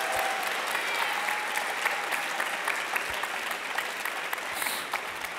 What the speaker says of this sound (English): Let's have a big round of applause for you guys.